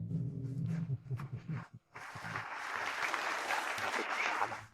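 Applause greets a corporation's CEO coming on stage, a crowd of hands clapping steadily after a few seconds of a voice speaking, and it carries on to the end.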